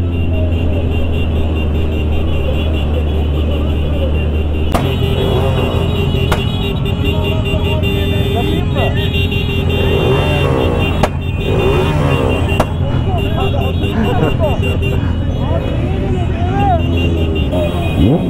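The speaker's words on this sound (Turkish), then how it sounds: "Tamam kardeşim, patlıyor egzozun." Cars rumble along in a street convoy for an April 23 celebration, their engines droning steadily while an exhaust pops and cracks several times at uneven intervals. Voices talk over the engine noise throughout.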